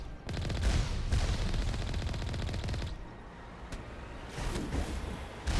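Rapid automatic gunfire bursts from a firefight in the video game Mass Effect, dense and loud for about three seconds, then a lull with a single sharp report before another burst at the end.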